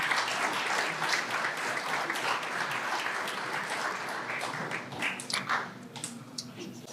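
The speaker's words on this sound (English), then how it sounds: "Can I have a nice round of applause for all the senior athletes?" A crowd at a high school athletic awards night gives a sustained round of applause for senior athletes, dense steady clapping that thins slightly toward the end, with no talking over it.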